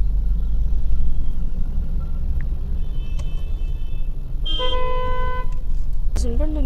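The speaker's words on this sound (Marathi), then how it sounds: "अजून पण तुम्ही ट्रॅफिक बघू शकता, फुल pack, service road pack, highway pack" Dense highway traffic with a packed service road, a steady low rumble of engines broken by several car horn toots, one long harmonic blast and a rising honk near the end, all close and loud.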